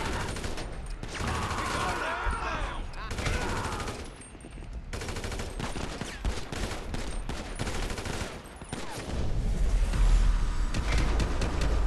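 Sustained automatic gunfire from a Grand Theft Auto shooting rampage, dense rapid bursts running loud for nearly the whole stretch, with a brief lull partway through and a voice talking underneath.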